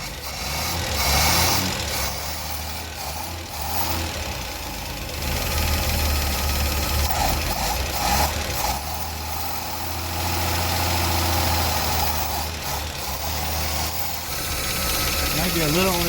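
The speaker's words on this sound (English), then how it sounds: "I could really hear the lifters though." Falcon car engine idling with ticking valve lifters, a steady low rumble with a rapid light ticking running through it, close, with people talking over it.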